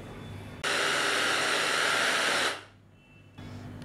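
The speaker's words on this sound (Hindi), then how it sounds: "हम इसे बिल्कुल बारीक सा ग्राइंड कर लेंगे।" An electric grinder blends boiled chicken with potato into a fine paste, a loud steady whirring roar that runs for about two seconds, then cuts off and winds down into quiet before a fainter hum returns.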